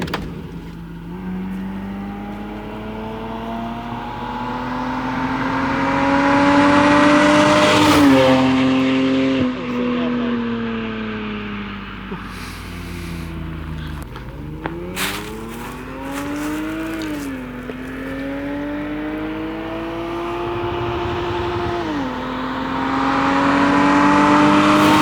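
A Lexus GS300 with a 2JZ engine and a junkyard catback exhaust drives through repeated shifts, its exhaust droning and rising under acceleration, then dropping between gears, loud and close from inside the car.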